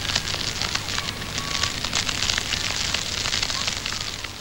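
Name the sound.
overblown crackling vinyl noise in a music track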